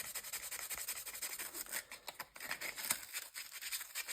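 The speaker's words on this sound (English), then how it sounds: "Maybe take a bit of sandpaper just to kind of smooth it off a bit." Sandpaper rubs steadily over a seasoned piece of elder wood being smoothed into a blank for uilleann pipe drone reeds, a close, continuous scratchy hiss with brief pauses between strokes.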